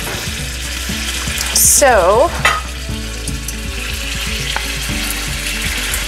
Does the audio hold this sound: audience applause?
no